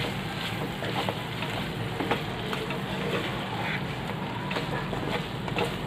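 Chicken pieces sizzling steadily in a hot pan as they are stirred for restaurant-style chilli chicken, a continuous close frying hiss with faint scraping, no talk.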